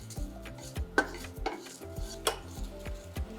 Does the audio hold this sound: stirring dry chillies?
yes